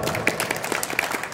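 Short burst of audience applause at a demoscene awards ceremony, scattered distinct claps from a modest crowd, moderately loud and without talk.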